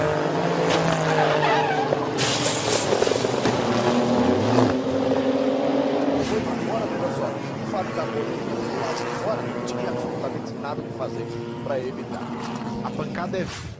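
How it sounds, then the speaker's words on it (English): A Super GT race car at full speed in top gear turns into the barriers, with loud engine roar, tire scrubbing and sharp broadband impact bursts, all under excited commentary. "We're in top gear, flat out, and the car just turns into the barriers, and that is an impact"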